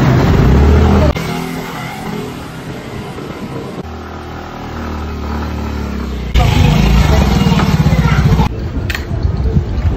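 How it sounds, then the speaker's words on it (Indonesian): Motorcycle engine revving hard and loud while climbing a steep mountain road, roaring continuously with shifts in pitch and intensity, close to the listener and alone without talk. "Yakin motormu bisa nanjak?"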